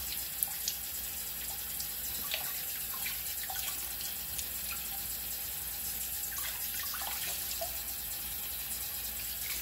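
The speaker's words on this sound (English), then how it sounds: "I feel like I'll just wash my hair." Water running steadily from a tap while hair is washed, a constant faint hiss with scattered small splashes and drips throughout, no voices.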